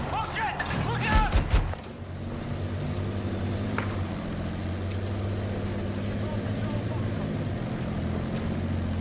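Enemy jet roaring overhead in a first-person shooter, a loud burst of engine noise that peaks briefly and then settles into a steady low drone, with voices shouting over it.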